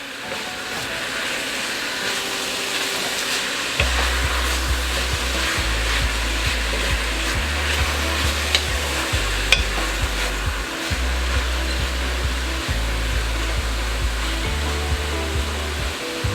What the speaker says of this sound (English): So we're just going to stir this up.